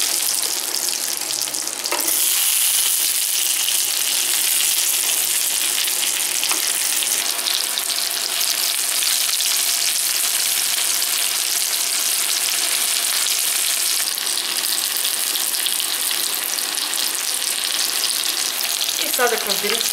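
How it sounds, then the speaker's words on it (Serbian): Young potatoes frying in melted butter in a pan, giving a steady, bright sizzle that runs throughout with a few soft clatters as they are turned. "dodajemo mlade krompiriće i pržimo ih 10 minuta, povremeno okretajući."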